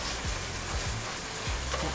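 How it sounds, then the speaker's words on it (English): Squid fries in a pan over high heat, producing a dense, loud, close sizzle with a few soft scraping stirs recurring through the short stretch. "I'm adding this squid back to the pan, turning the heat up,"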